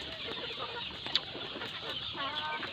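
Free-range village chickens on a small farm cluck softly nearby, scattered short calls over a low outdoor background hum, with no talking.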